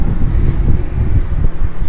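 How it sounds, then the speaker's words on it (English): Steady wind roaring across an open microphone on a 15th-floor balcony in Ibagué, low rumbling gusts with no voices, constant and close throughout. "Nice windy breeze."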